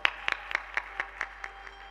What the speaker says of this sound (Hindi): एक बार तालियों के साथ उनका आदर कीजिए।